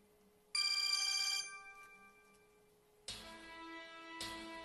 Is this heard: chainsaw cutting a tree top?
no